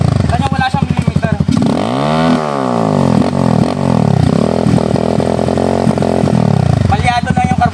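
Motorcycle engine with a misfiring carburetor running on a stock CDI, loud and close, a rough uneven idle swelling into a revving pull and settling back, with someone talking over it.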